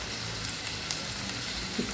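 Soy sauce hits a pan of fried onions for chilli fish, giving a brief, quiet, even sizzle with a couple of faint ticks.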